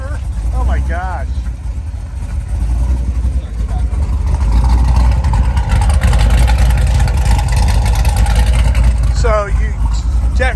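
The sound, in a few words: loud engine motor running, sounds like a boat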